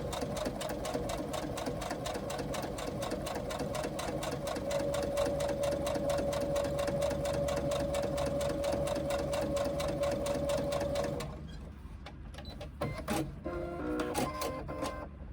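Sewing machine top stitching an eighth-inch seam across a strip of binding on a pouch, running steadily and close for about eleven seconds, then stopping, followed by quieter handling noises.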